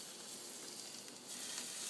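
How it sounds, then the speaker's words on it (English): Hot oil sizzles and crackles steadily up close as it is poured over a whole steamed fish, a constant bright hiss with no voices. "You can hear that sizzling."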